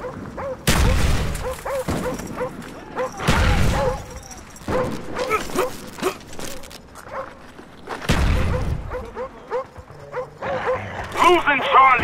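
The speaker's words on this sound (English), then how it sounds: "Dogs incoming" Attack dogs barking and yelping in Call of Duty Black Ops during a Domination match on the Cracked map, mixed with loud gunfire bursts and booms, with players talking throughout.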